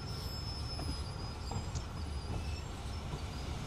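A DBR 363 shunting locomotive in the train simulator game Train Sim World 2, giving a steady loud rumble with a faint high wheel squeal and occasional clicks, with no speech.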